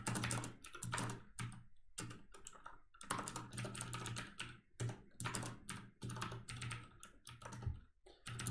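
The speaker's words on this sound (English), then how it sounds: "let me type that and explain later" Close, steady computer keyboard typing as code is entered, with rapid clusters of keystrokes broken by short pauses throughout, and no talking.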